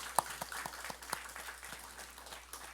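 A church congregation at a Sunday service gives faint, scattered applause: sparse individual claps spread across a quiet hall, fading out within a few seconds.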